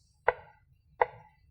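Knife cutting food in half on a board during a home cooking lesson for kids, two crisp separate chops about three-quarters of a second apart against near silence.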